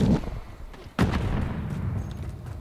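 A Semtex grenade goes off in Call of Duty: Modern Warfare 3 (2023) multiplayer, landing as one sharp, punchy blast about a second in, followed by a rumbling tail under faint background game noise.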